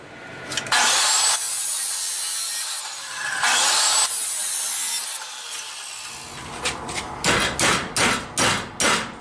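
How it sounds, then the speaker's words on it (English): Long, harsh saw strokes rasp through 1-inch flat steel in slow passes, then a run of sharp, evenly spaced hammer blows follows. "We'll cut two 16-inch pieces of 1-inch flat steel"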